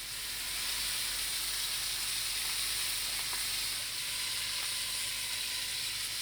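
Meat searing in a hot pan with butter and oil gives a steady, loud, hissing sizzle, close up and unbroken for several seconds, with no voices over it.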